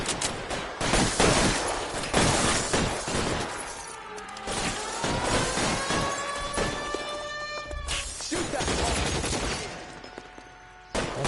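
Automatic machine gun fire in L.A. Noire crackles in rapid bursts mixed with shattering impacts and a rising whine, loud and busy, then easing off toward the end.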